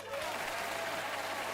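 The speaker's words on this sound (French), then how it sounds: "Je crois qu'on peut l'applaudir encore." Steady studio audience applause on a French TV quiz show special, a dense even wash of many hands clapping at moderate level throughout, with no clear voice rising above it.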